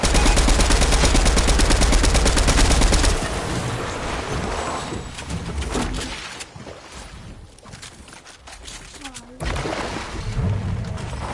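Rapid automatic gunfire rattles loudly for a few seconds, then scattered shots and bursts continue more quietly over a busy background.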